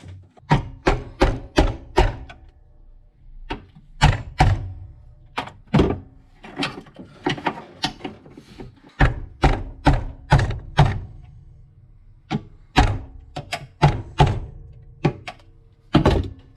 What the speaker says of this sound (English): I'm just going to be chiseling away with a screwdriver and a hammer